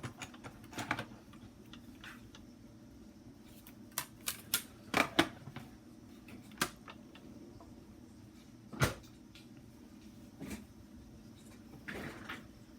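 Paper in an embossing folder with a number 4 plate rolled through a hand-cranked embossing machine, making sporadic sharp clicks and clacks amid soft rolling and handling noises, close and fairly quiet with no talk.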